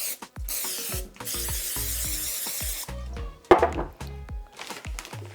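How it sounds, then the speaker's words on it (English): A few short hissing sprays of cooking spray into a glass pan, close up, followed by light clinks and handling noises. "I'm going to spray it down with some cooking spray."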